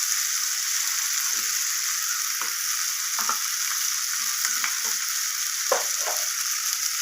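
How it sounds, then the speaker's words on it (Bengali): Potatoes frying in a pan, with a steady bright sizzle and occasional soft scrapes and knocks as they are stirred. "তো এইভাবে একটু সময় নিয়ে আলুটাকে আমি কষিয়ে নিচ্ছি।"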